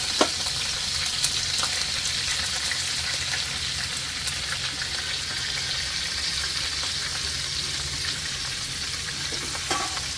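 Onions fry in hot oil for Gujarati-style misal pav, giving a steady, close sizzle with scattered small crackles and pops throughout and no voices.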